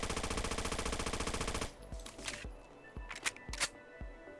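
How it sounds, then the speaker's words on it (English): A modern Russian pistol fires full auto in Fallout 4, a rapid loud burst of evenly spaced shots followed by several separate mechanical clicks and clacks. "This thing can practically be turned into an SMG when you put it in full auto and add a stock to it."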